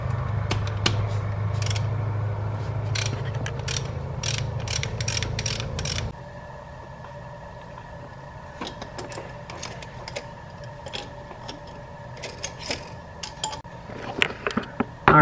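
Metallic ratcheting and clicking from a wrench working an oil pressure sensor loose on a K-swapped Honda Civic engine, sharp repeated bursts over a low hum that drops away partway through.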